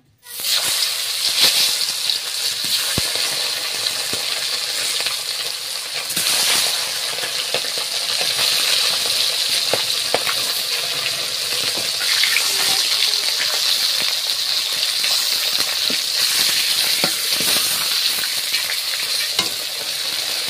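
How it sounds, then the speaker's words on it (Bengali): Fish rubbed with salt and turmeric frying in hot oil, a continuous bright sizzle with crackling pops and occasional stirring, close and steady throughout. "তেলটাও কিন্তু গরম হয়ে গেছে, আর মাছগুলো আস্তে আস্তে ভেজে নেব।"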